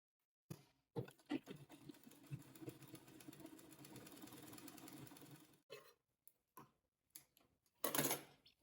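A sewing machine stitches down the fabric edge of an off-shoulder bustier gown with side draping, running steadily for about five seconds, then giving a few short separate bursts.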